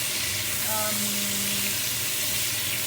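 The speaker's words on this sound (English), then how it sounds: "I am cooking rabbit for lunch guys with onion" Rabbit meat browns in a pan with a steady, even sizzle that runs throughout at moderate volume, with a faint tone briefly rising over it.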